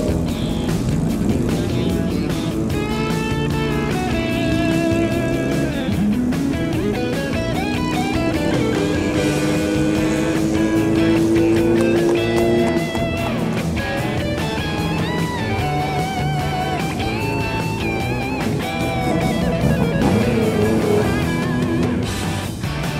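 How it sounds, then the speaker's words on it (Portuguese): A vehicle's exhaust roars loudly and continuously, its engine note swelling and sweeping up and down in pitch as it revs, close and dominant throughout. "Da hora esse escape, hein?"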